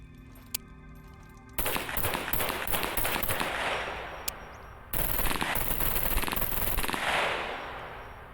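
Mac 10 submachine gun firing 9mm rounds in the survival game SCUM, two rapid full-auto bursts of loud crackling shots, each running a few seconds with a brief pause between.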